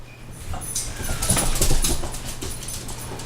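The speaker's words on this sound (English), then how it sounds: "And Chapo just got here, so of course Bella just had to go barreling through the house there in case you were wondering what that noise was" A dog barrels through a house, a brief rush of scrambling footfalls and knocks swelling to a peak and fading over a few seconds, with a faint whimper-like tone, fairly close and without speech.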